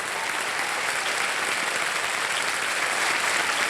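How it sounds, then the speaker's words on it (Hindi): Studio audience on the KBC quiz show applauds in a dense, steady wash of clapping that stays loud and even throughout, with no voices over it. "तालियां बज जाएं इनके लिए"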